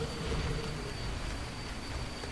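Rain pours across a video game desert as an unbroken, fairly loud wash of hissing patter, steady throughout, with no voices.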